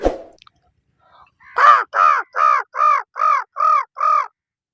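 A voice imitates a crow, giving seven loud, evenly spaced caws after a brief sound at the start.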